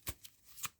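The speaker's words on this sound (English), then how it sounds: "Let's see if we can add some astrology cards to it." Astrology cards being shuffled in a few quick, soft riffling bursts, close and quiet.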